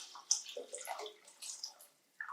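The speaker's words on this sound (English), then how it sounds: "So here I have the second jug of water, and I'll pour it in this" Water is poured from a jug into a soup pot while making chicken vegetable soup, giving a faint, close splashing and trickling that lasts about two seconds with small bursts.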